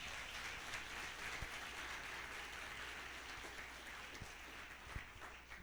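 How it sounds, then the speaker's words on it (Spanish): A congregation at a Spanish-language church service applauds together, a steady, dense wash of clapping that holds at an even level for several seconds with no voices over it. "un fuerte aplauso al Señor."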